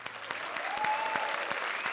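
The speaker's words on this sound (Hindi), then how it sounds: "तालियां वसंत के लिए" Studio audience at a Diwali comedy show applauding steadily for about two seconds, dense continuous clapping with a faint tonal sweep in the background.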